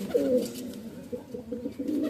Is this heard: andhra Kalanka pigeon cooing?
yes